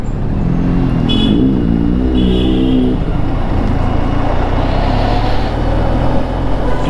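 Car engine and road noise as a car rolls into a small beachside resort in Goa, a steady loud drone throughout with a brief tonal horn-like sound early on and no talking.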